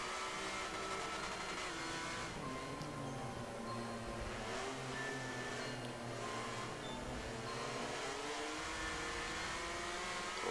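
Racing cars accelerating in a sim racing game, three cars bunched up and powering out of the last corner: a dense, continuous engine whine and roar that holds steady at high volume throughout.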